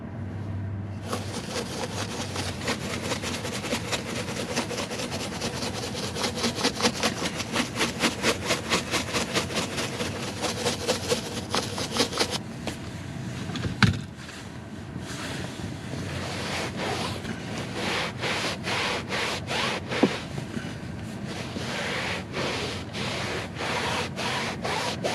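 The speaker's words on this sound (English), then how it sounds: "apply the product on the brush, brush this out," Brush scrubbing cleaning product into the fabric headliner of a Tesla Model 3: continuous close rasping strokes in a fast, even rhythm, with two brief knocks partway through.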